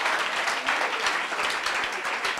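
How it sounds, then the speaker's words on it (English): Congregation giving a clap offering at the Cotonou Jesus Reign Conference church gathering, a steady wash of many hands clapping together, fairly loud and sustained for a few seconds with no talk over it. "give a clap offering to the King of Kings and Lord of Lords."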